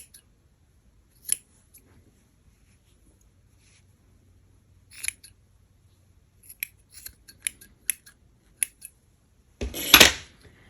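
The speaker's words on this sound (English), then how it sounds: "So you just want to cut all the loops" Scissors snip through the yarn loops of a crocheted Christmas stocking. Sharp, close cuts come singly and in a quick irregular run, ending in a louder, longer snip in a quiet room with no talking.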